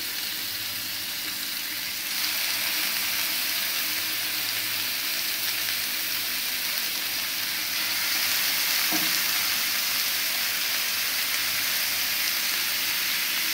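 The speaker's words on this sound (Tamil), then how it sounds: "சிக்கனை 1 by 1 அப்படியே அடிக்கிடலாம்." Malai chicken tikka pieces fry in butter or ghee in a pan on the stovetop, a steady hiss that grows louder as more pieces go in, with a soft thump partway through.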